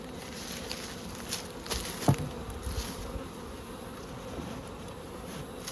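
Honey bees from the Crossmaglen hives fly around an open hive entrance at a trailer, a dense continuous buzz with a few louder passes close by.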